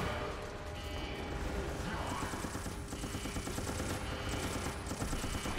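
Covering gunfire in the video game Resident Evil: Operation Raccoon City rattles in rapid, continuous bursts of automatic shots under game noise, holding steady for several seconds.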